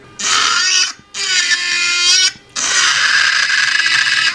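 Melody Susie Jade Plus nail drill cutting through thick plastic, a loud high-pitched whining grind in three sustained bursts separated by brief pauses, close up with no talking.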